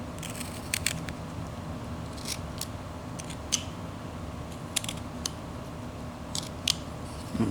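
A whittling knife slices into wood in short, crisp scraping cuts, scattered at irregular intervals over a steady low background hum, close and faint.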